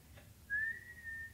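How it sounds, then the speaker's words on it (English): A person whistles a single sustained, slightly wavering note in a quiet room, picked up by a computer's side microphone, brief and fairly soft against a low background hum. "So you see, we're picking up the whistle with the microphone on the side"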